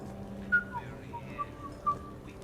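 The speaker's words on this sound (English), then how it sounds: "Are you whistling?" A character in the game Mass Effect Legendary Edition whistles a short, bright tune in a few separate notes over a quiet background hum.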